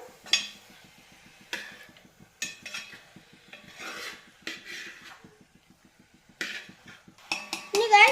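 Chicken curry being stirred in a heavy-bottomed pot, a spoon scraping and clinking against the metal in irregular bursts, close up, with quiet gaps between strokes.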